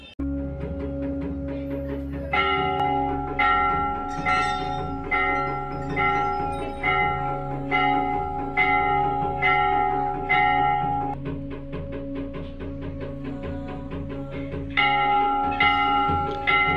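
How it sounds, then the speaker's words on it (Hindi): Many offered temple bells, small to large, ring at the Golu Devta temple, with bright metallic strikes repeating in a steady rhythm and layered, sustained tones ringing close and loud throughout. "इन मंदिरों में बहुत सारी घंटियाँ हैं, बहुत चारों तरफ घंटियाँ ही घंटियाँ हैं।"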